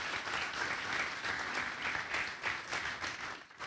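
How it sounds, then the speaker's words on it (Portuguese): A church congregation applauding, a dense, steady wash of many hands clapping at moderate distance, continuous for a few seconds before briefly tapering. "Então dê um aplauso ao Senhor"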